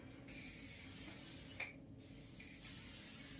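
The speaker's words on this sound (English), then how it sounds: "hair spray." Quick hisses of an aerosol spray, a few short bursts close by with brief pauses between them, and no talking.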